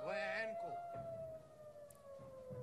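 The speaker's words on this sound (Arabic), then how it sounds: "مع سماع دوي صفارات الإنذار" Air raid warning sirens in the Galilee hold a long steady wailing tone, fading slightly, with voices briefly audible at the start.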